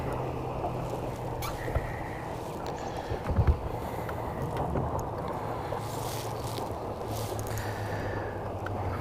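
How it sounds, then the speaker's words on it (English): Low steady rumble of a boat motor running with wind noise over it, a few small knocks midway, no talking. "I didn't do a very good job of starting the boat there."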